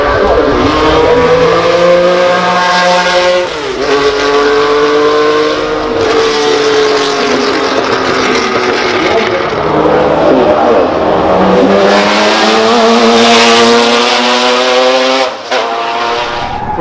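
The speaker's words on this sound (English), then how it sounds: "that is the end of the Group 1 and Group 2 cars runs up the hill" Group 1 and Group 2 classic race cars charge up the hill climb at the Goodwood Festival of Speed, their engines loud and close as they rev high, change gear and rise again in pitch, with a crowd murmuring faintly behind.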